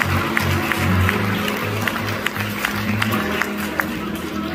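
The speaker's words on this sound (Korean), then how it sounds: "네, 박수 부탁드리겠습니다." Audience applause at a plus-size model contest, a steady wash of clapping and crowd noise with some voices mixed in, moderately loud throughout.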